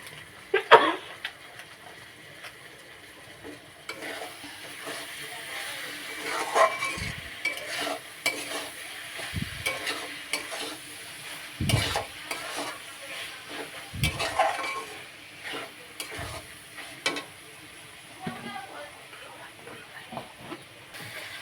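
Mutton frying with Kashmiri red chilli as it is cooked down for a goat curry, a low sizzle under repeated scraping stirs and dull pan knocks at irregular intervals, close and with no speech.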